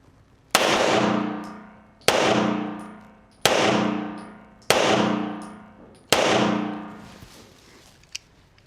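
A Browning Hi Power pistol fires five loud, sharp shots spaced about one and a half seconds apart, each crack followed by a long decaying echo, with a small click after the last.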